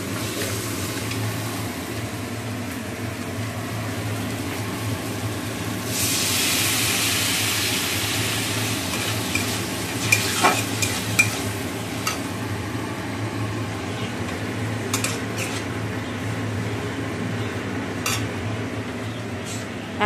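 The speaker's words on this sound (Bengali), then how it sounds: "তো আদা দিয়ে আর টমেটো দিয়ে আলুটা কষে নিচ্ছি" Potatoes sauté with ginger and tomato in a pan as they are stirred: a low steady sizzle with a louder hissing surge partway through, then scattered metallic clinks of the spoon against the pan.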